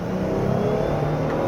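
A 2022 Jeep Gladiator Rubicon accelerates in a low gear on a winding road, its engine giving a steady, loud mid-range drone with a rising rev tone and no voices over it.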